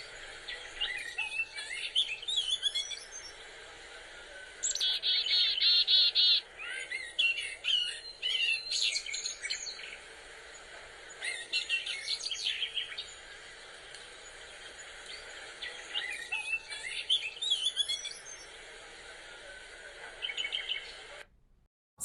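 Wild winter birds call and chirp in a backyard, with bursts of bright, rapid calls coming and going throughout, some sharp squawk-like notes near and clear over steady outdoor hiss.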